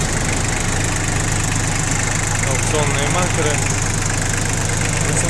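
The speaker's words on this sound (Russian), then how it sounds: "Работает, кстати, двигатель достаточно ровно, то есть здесь у нас трехцилиндровый дизель, естественно." A Yanmar FX20D tractor's three-cylinder diesel engine idles evenly with a steady low drone throughout, while someone talks over it close by.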